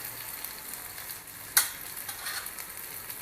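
Chopped onion sautéing with chili powder in a pan for a ragda chaat, with a steady soft sizzle and one sharp click of a spoon or spatula against the pan midway, no talking.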